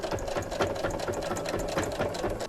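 A sewing machine backstitches the seam of a small fabric bag, close up, with a steady mechanical whir and quick rhythmic needle pulses running without pause.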